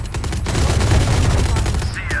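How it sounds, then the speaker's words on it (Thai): Rapid gunfire in the shooter game Valorant, a dense continuous volley of shots filling the clip at steady loudness, with faint voices underneath. "เฮ้ยเมื่อกี้เรายิงได้ไหมเนี่ย"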